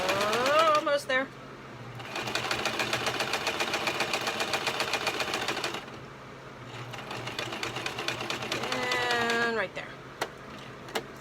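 A sewing machine stitches a headband-style bonnet in two long steady runs of rapid mechanical whirring, broken by short pauses and brief handling noises.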